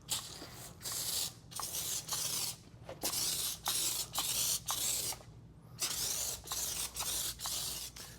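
Water spray rinses clay towel lubricant residue off a car's paint in a series of close, hissing bursts separated by brief pauses, with faint mechanical clicks between them.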